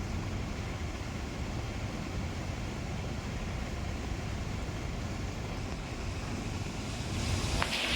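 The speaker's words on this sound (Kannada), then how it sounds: "ನಾಲ್ಕು ಕ್ರಸ್ ಗೇಟ್ಗಳ ಮೂಲಕ ಒಂದು ಸಾವಿರ ಕ್ಯೂಸೆಕ್ ನೀರನ್ನು ನದಿಗೆ ಹರಿಸಲಾಯಿತು" Water released through four crest gates of the Harangi dam pours into the river, a steady broadband roar of rushing flow that holds constant and loud throughout, with a slight swell near the end.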